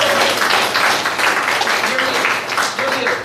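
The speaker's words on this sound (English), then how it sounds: "give them a big round of applause" Church congregation gives a big round of applause for discipleship group members, dense continuous clapping from a full room lasting the whole stretch, with voices mixed in.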